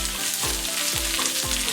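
Shallots and curry leaves fry in a pan for a chicken stew, giving a steady close sizzle broken by three regular low scraping strokes of stirring, with no talking.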